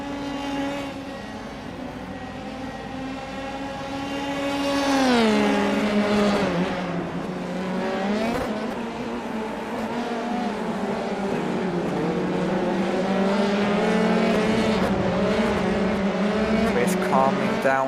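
Dallara F3 race cars in a racing video game roar through a chicane, engines rising and falling in pitch as they downshift and accelerate, with a commentator talking over the continuous engine noise.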